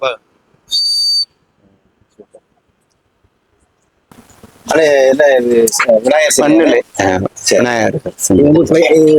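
A short, shrill whistle tone from a clay water whistle sounds once, then after a pause a person starts talking close by.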